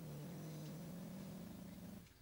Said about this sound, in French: Désolé si vous entendez des miaulements, c'est mon chat qui veut sortir de ma chambre.